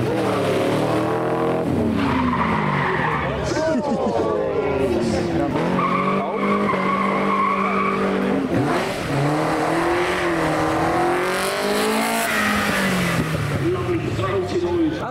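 Cars braking hard at a car show, engines roaring past in waves with squealing, skidding tyres and shifting revs, loud and close throughout with a voice speaking over parts of it.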